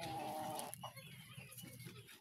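Chickens on a rural farm in the province make brief clucking calls close by over a low, steady background hum.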